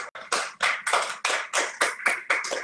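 A church congregation claps in rhythmic bursts, about nine distinct waves of applause in quick succession, fairly close and without voices.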